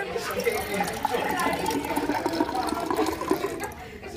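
Liquid pouring steadily into a graduated cylinder in a biotech lab, a continuous wet splashing stream lasting the whole stretch at moderate, even loudness.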